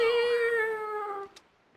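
Link from The Legend of Zelda: The Wind Waker lets out a cat-like meow in his custom voice, a human voice imitating a cat. The cry is drawn out and tonal, about a second long, close and clear, then gives way to quiet.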